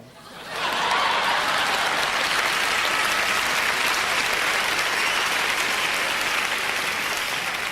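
A large awards-ceremony audience breaks into sustained applause, rising quickly and holding steady as a dense, even wash of clapping.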